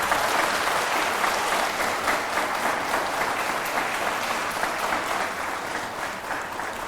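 A studio audience on a quiz show, KBC Nepal (Ko Banchha Crorepati), applauds in a loud, sustained burst of dense clapping that holds steady across the stretch and eases only slightly at the end.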